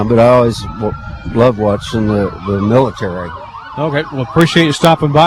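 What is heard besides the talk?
sirens of law enforcement vehicles at parade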